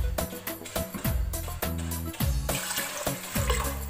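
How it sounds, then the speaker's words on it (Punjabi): Water is poured into a pressure cooker holding rice, about twice the volume of the rice, in a run of splashing gushes. A hollow resonance in the pot shifts as it fills, close and fairly loud. "ਅਸੀਂ ਚੌਲਾਂ ਤੋਂ ਦੁੱਗਣਾ ਪਾਣੀ ਪਾਵਾਂਗੇ"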